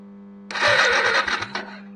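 A Yamaha XVS 125 Dragstar engine cranks over briefly during a spark test, a close, loud burst of rapid mechanical churning lasting about a second and a half against a steady electrical hum.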